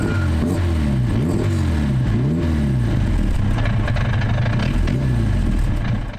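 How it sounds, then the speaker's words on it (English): Talbot Sunbeam Lotus carburetted engine revved in short loud blips with strong carburettor intake roar, the pitch rising and falling repeatedly close by. "So you can hear the intake noise from the carbs"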